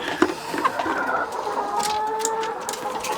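Laying hens cluck and murmur inside a cramped backyard coop, a busy overlapping chorus of close calls that runs without a break and includes one sharper squawk near the start.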